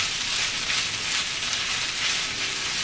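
Chopped capers and olives sizzling in a hot pan for a plantain pastelle filling, a steady broad frying hiss that holds evenly throughout with no talk.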